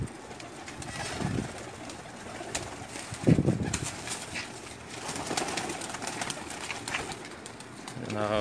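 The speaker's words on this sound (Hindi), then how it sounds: "जनाब मेरे स्पेशल कबूतर देखो" Teddy pigeons coo softly and repeatedly nearby, low throaty calls coming in several bursts, with faint background noise and murmuring voices.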